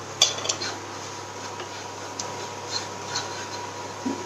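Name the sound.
stirring chili and turmeric in a bowl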